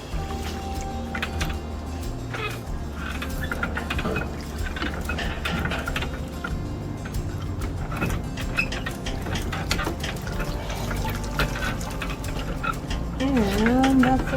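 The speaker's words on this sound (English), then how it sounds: "the wringer, because it'll slurp them right in." A vintage washer's wringer turns steadily and squeezes wet clothes through its rollers, giving a continuous mechanical grind with sloshing and dripping water, close by, and a short voice near the end.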